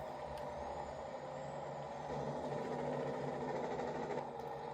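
A Volvo truck idling near a grain elevator on a farm, its engine a steady low drone with broadband hiss and a few sharp air-brake releases, close and continuous throughout.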